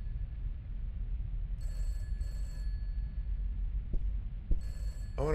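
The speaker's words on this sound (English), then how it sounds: "Phones are ringing. I hear it on the right. I hear it on the left." Telephones ring in the horror game Peter's House: two short electronic ring bursts, then another near the end, over a heavy low droning rumble and a couple of dull thuds.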